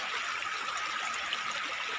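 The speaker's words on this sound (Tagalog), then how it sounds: "Yan, ilog sa amin." River water in a rural province flows steadily and close, a continuous bright rushing and trickling hiss with no pauses and no voices.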